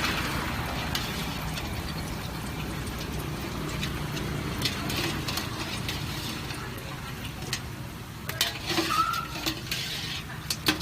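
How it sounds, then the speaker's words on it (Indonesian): Battered mushrooms deep-frying in a wok give a steady, even sizzle and bubbling hiss, with a few light clinks of a utensil near the end and no talking. "Terakhir, digoreng hingga warna keemasan."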